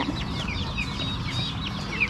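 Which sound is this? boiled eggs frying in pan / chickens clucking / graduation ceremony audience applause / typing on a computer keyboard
chickens clucking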